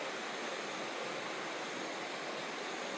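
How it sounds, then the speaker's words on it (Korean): A creek flows beside a riverside camp spot in Daehwa-myeon, Pyeongchang, a steady, dense rushing and burbling of water that is close and fairly loud, with no talk over it. "오늘은 개울가 앞에 자리 잡았습니다 이렇게"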